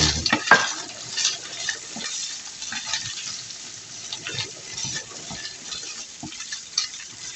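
Peas and lardons are stirred in a hot frying pan, a steady sizzle with scraping and clinking of the utensil against the pan, close and fairly quiet.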